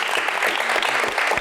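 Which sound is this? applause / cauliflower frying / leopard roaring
applause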